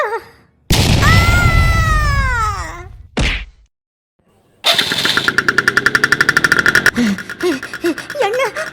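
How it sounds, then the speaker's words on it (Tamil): A cartoon vehicle's engine starts up on its own in a Tamil animated ghost comedy: a loud, rapid, rhythmic putter follows a falling whistle-like sweep and a short burst, with no talk over it. "வண்டி தன்னால ஸ்டார்ட் ஆகுது"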